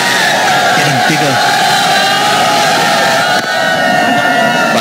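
A big crowd at a BPL T20 cricket match between Chittagong Vikings and Comilla Victorians roars continuously, a loud, dense wall of cheering and shouting with a brief commentator voice layered in near the start.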